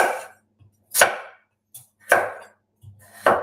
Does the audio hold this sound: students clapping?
no